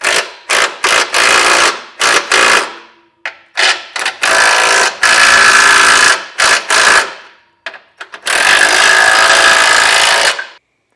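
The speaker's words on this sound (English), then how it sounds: "come back with a 3/4 inch socket and snug everything down" A 3/4 inch socket on a power tool snugs down Blue Ox base plate hardware on a 2024 Jeep Grand Cherokee L, heard as loud repeated bursts of whirring and rattling with short pauses between them, no talking.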